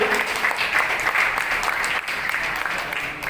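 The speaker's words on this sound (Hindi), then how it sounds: "गौतम नायक केवल जोरदार तालियां दें" A crowd at a community awards gathering in New Delhi gives loud, vigorous applause as an honoree is called to the stage, with dense, unbroken clapping throughout.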